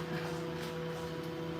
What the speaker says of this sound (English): Sorry for the noise, guys. That's my robo vacuum